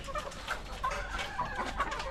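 Chickens clucking in a steady, busy chorus close by in their coop, with scattered short calls overlapping throughout and no talking.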